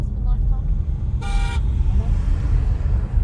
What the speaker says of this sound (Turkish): Arkamızdaki araba korna yaptı biz çok yavaş giriyoruz diye